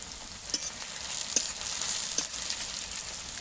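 Chopped garlic and onion fry in hot oil in a pan, giving a steady close hiss of sizzling broken by a few sharp stirring clicks, with no voices.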